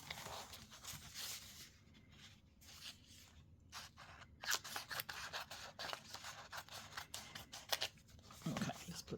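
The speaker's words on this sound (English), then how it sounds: "Make sure there's only one page that I'm cutting out" Scissors cut a single paper page while an artist trading card is made: a close, quiet run of snipping and rasping slices with brief pauses, faint and alone.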